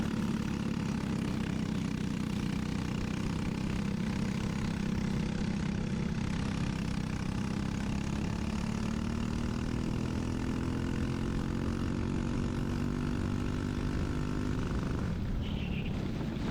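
Birel LO206 racing kart engine warming up on a track, a steady loud drone running throughout with rising pitch as revs build, then cutting down near the end.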